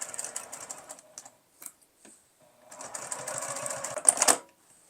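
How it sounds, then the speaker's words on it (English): A sewing machine stitches the seams of a felt tote bag in two close bursts of rapid, even whirring, the second longer, separated by a short pause with light clicks. "Sew at 1/4 inch in along the 3 sides, back stitching at the beginning and end."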